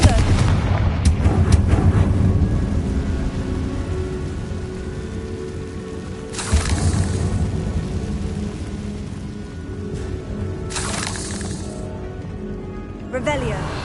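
A Confringo blast curse goes off in the Hogwarts Legacy video game: two broad, booming explosions land about five seconds apart over a steady bed of game music and ambience, each bursting loudly and then rumbling away.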